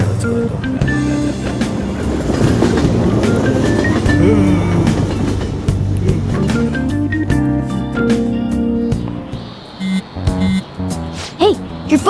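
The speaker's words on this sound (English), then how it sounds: "Oh, the train's here." A train pulls into a station in the video game Persona 5 Royal, with rumbling rail noise, clacking and rising and falling mechanical tones, heard loud and then easing off toward the end.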